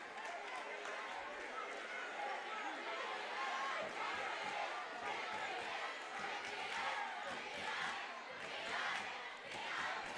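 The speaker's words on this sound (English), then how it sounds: "Crowd going back and forth with one another." Spectators at a high school basketball game chant back and forth between the stands, a loud, continuous crowd roar with rhythmic shouting rising and falling throughout.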